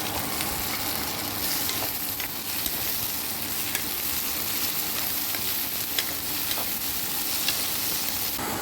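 Onions and tender tamarind leaves fry in a pan while a spatula stirs them. A dense, steady sizzle carries sharp scraping clicks from the spatula, close and without speech.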